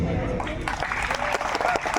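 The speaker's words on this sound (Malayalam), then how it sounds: "ഇനി എല്ലാവരും നല്ലൊന്ന് കൈയടിച്ച്" A crowd at a temple festival in Kollengode applauds, a burst of many hands clapping with a voice speaking over the clapping through the short stretch.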